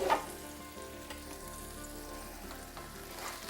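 Lamb chops sizzle in a pan with wine, a steady close frying hiss with a few light stirring clinks and a brief louder burst at the start, no voices.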